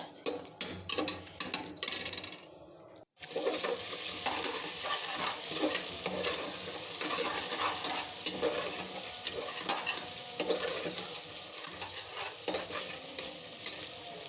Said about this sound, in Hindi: प्याज को यहाँ पर हम फ्राई करेंगे तब तक जब तक इसका गोल्डन हल्का सा कलर इसका थोड़ा सा चेंज हो जाए।